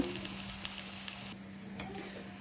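Onion cooks in a hot pan for fried rice, giving an even, continuous sizzle with a few light clicks from stirring and no one talking.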